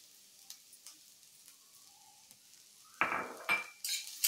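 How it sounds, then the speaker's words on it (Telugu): Chopped onion tossed into a pan of thin bitter gourd slices frying until golden: quiet clinks of a utensil give way to a sudden loud sizzle burst, followed by stirring scrapes and continued crackling. "ఈ ఉల్లిపాయ ముక్కలు వేసేద్దాము"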